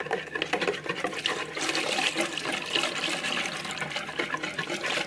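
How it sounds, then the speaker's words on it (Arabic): About a kilo of milk is poured into crepe batter, a steady, close gushing and splashing of liquid that runs on without a pause, with no talking. "وبعد كده هنزل بكيلو من الحليب"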